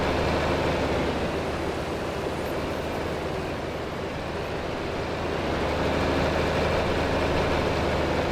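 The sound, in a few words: tractor engine in video game Farming Simulator 25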